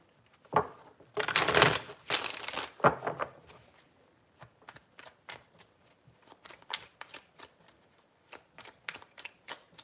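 Tarot cards shuffled by hand: a loud riffling burst, then a run of soft, irregular card slaps and flicks, close up and quiet, with no talking.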